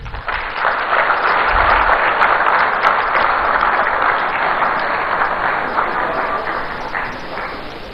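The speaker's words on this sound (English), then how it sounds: "with a round of applause, shall we welcome up here Honorable Sam George" A crowd at a political event in Accra applauds to welcome a speaker, sustained loud clapping that swells early and holds throughout, with no speech over it.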